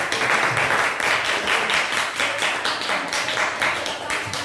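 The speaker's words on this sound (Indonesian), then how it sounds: "Beri tepuk tangan untuk kelompok" A classroom group of students applauds after a school presentation, dense steady clapping from many hands filling the room at close range, with faint voices mixed in beneath it.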